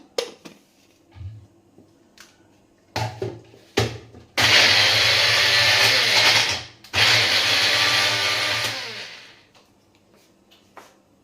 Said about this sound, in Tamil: அரைச்சி நல்லா பேஸ்ட் பண்ணி எடுத்துகிட்டு வந்துடுறேன்